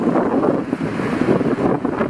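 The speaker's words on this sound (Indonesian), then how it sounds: "Anginnya kencang banget cuy." Strong wind buffets the microphone on a rooftop by an apartment swimming pool, a loud continuous rumbling roar with gusty swells throughout.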